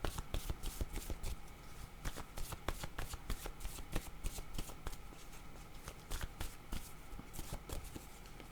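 A deck of word cards being shuffled, with rapid riffling bursts and soft flicks that repeat steadily at close range, fairly quiet and without talk.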